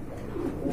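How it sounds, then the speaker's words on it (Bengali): Pigeons at a pigeon market, a short low soft coo rising near the end, fairly quiet against the background. "এখানে দেখতে পাচ্ছেন আরেক জোড়া কবুতর রয়েছে"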